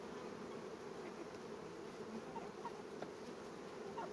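Honeybees swarm at a hive in a dense, continuous buzzing hum, close and steady, with no voices.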